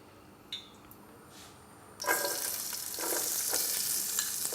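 Onions go into a pan heated with about two tablespoons of oil and start frying. A couple of faint clicks come first, then a sudden loud sizzle bursts in and holds as a steady, close hiss.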